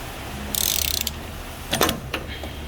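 A half-inch ratchet fitted with an extension and a 36 mm socket clicks through a quick run of pawl clicks, then a few sharper clicks, close and clear while loosening the fuel filter on a 2021 GMC Sierra.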